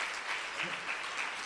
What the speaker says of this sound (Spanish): Aplauda fuerte al Señor en esta tarde.